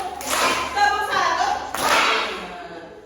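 A primary-school class claps together in sharp, unison bursts, close and fairly loud, with a little shuffling in between.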